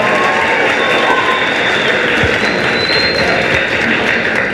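A singing-contest audience gives loud, sustained applause for a singer, a dense and even wash of clapping from a large crowd that holds steady from start to finish.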